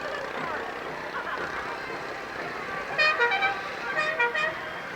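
Small parade cars drive past at a football parade, sounding a series of short bright horn toots near the end over a steady crowd and engine background with people talking.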